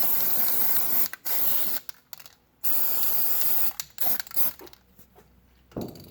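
Bursts of aerosol brake lubricant sprayed onto a 2010 Chevy Malibu front brake, loud close hissing in several spurts of uneven length separated by brief silences.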